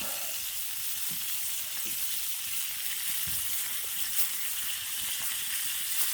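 Food sizzles in a very hot pan on a winter camping stove in a snowy beach tent, a steady close frying hiss with a few soft clunks as pieces are moved, no voices.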